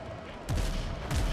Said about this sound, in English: Too bad you shot your cannons into the wave.